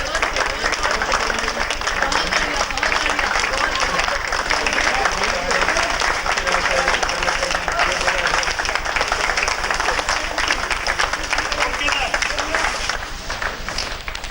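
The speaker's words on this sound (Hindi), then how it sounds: "आज जब मेडिकल टीम उस इलाके में आई तो लोगों ने तालियां बजाकर उनका स्वागत किया" A crowd of local people claps to welcome an arriving medical team, a dense, steady wash of applause from many hands that holds for the whole stretch and thins slightly near the end, with voices mixed in.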